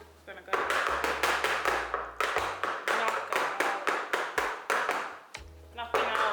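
Cake pans filled with pineapple upside-down cake batter are tapped firmly on a counter, producing a steady series of sharp knocks in quick rhythmic succession, close and loud.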